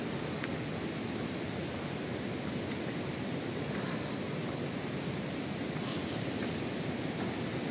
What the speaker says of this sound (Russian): Шумит речка.